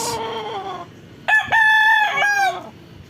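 A claret gamecock rooster crows nearby, loud and clear. A shorter call comes first, then one full drawn-out crow with a wavering tone that breaks off at the end.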